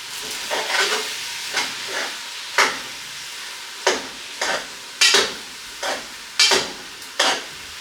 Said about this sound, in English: Now I'm going to stir it around, and I'm going to put it on a lower heat and put a top on it